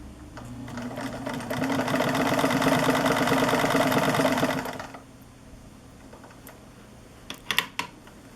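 A manual mechanical sewing machine runs a zigzag stitch in a loud, steady whirring rattle for about five seconds, then stops, leaving quiet room tone and a few sharp clicks near the end.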